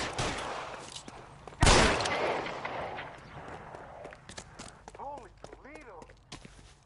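Gunshots in the 1940s Los Angeles crime game LA Noire: a single loud, close shot rings out amid a chase, followed by scattered faint pops, footsteps and a wailing siren, with voices speaking.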